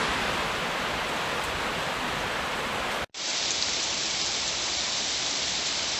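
Steady heavy rain pours down during a bicycle ride, a dense continuous hiss close by with a brief dropout midway before resuming slightly duller.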